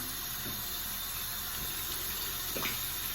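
Warm water runs steadily from a tap onto a towel in a bathroom sink, a continuous faint hiss and splash with no talk over it.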